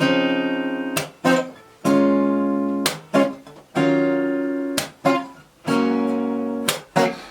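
Strummed chords ring out in a steady sequence, each one sharply attacked then sustained, with brief gaps between changes. No voices.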